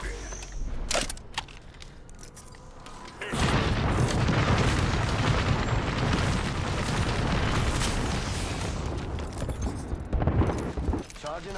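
An arc star grenade goes off in Apex Legends with a sudden booming burst, then a long, loud, crackling wash of noise that lasts several seconds before trailing off. Game sounds and voices are heard around it.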